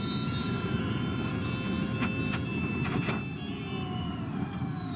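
Onboard sound of a Formula E electric race car running flat out through practice at the 2022 Rome E-Prix, a steady high-pitched motor whine with a dense rumble of road and wind noise throughout, a few sharp transient spikes midway.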